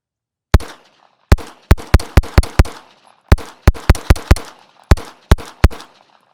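An HK USP 45 pistol fires .45 ACP rounds in quick strings of sharp, loud, close reports, about sixteen shots in several bursts with short pauses between, each followed by a brief echo.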